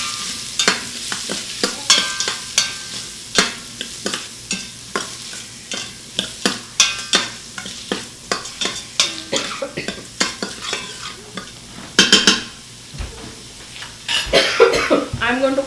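Onions with salt sizzling in an Instant Pot while a spoon stirs and scrapes the inner pot, a steady frying hiss broken by frequent clacks and scrapes, with a few coughs or throat sounds.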